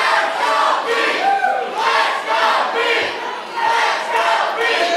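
A wrestling crowd roars and chants in support of Big Beef Gnarls Garvin during his match with BSTD Cassidy, loud rhythmic surges of cheering voices filling the arena continuously.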